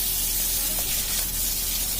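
A small splash of oil hitting a hot pan before frying hilsa fish heads, giving a steady, dense hiss and sizzle throughout, close and loud.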